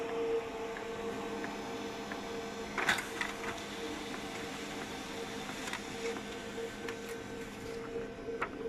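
Printer running out a balancing report for a 520 bronze vacuum element impeller, a steady mechanical hum with faint clicks and a brief louder burst near three seconds, no talking.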